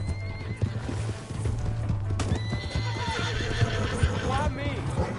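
A horse clip-clops at a gallop and whinnies loudly in the Red Dead Redemption video game, its hoofbeats steady and close, while voices talk over it throughout.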